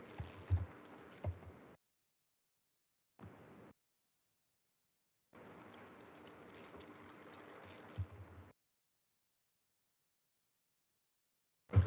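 Computer keyboard typing comes in short soft clusters of keystrokes separated by silent pauses, faint and close, with one longer run of steady tapping in the middle.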